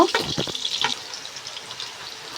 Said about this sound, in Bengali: এখন আমি এই আলুটা ভেজে নিব সুন্দর করে